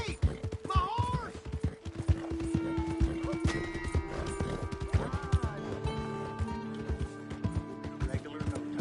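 Horse hooves clip-clopping at a run in Red Dead Redemption 2, a dense rhythmic patter of hits mixed with a whinny and game music, while someone shouts over it.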